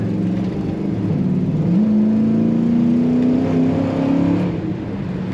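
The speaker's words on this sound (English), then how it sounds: "Very fun to put your throttle down on this car." A 1965 Chevrolet Impala two-door hardtop with air ride suspension accelerates hard from inside the car: a loud, steady engine drone whose pitch climbs smoothly as it revs up, then eases off near the end.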